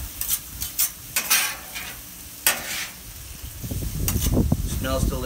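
Beef and broccoli stirred and scraped on a Camp Chef flat top griddle, with spatula clatters over a steady sizzle that grows louder toward the end; a voice speaks briefly.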